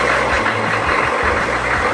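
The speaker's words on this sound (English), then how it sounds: "we can go and start the vehicle" A military vehicle's heavy diesel engine runs at a steady idle, a loud, continuous low rumble with slight throbbing pulses throughout.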